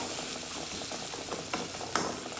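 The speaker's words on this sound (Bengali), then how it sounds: "হাফ টি স্পুন পেস্ট দিয়েছিলাম এটাকে একটু ভাজা ভাজা করে নেব" Ginger paste frying in a pan, a continuous close sizzle with a few soft stirring scrapes.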